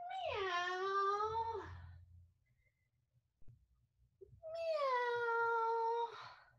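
A person's voice imitates a cat, giving two long, drawn-out meows separated by a quiet pause, close and clear with no other talk.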